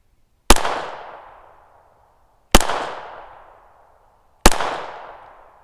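Three loud, sharp gunshots from a Glock pistol firing knockoff ammunition, spaced about two seconds apart, each with a crisp crack followed by a decaying echo tail.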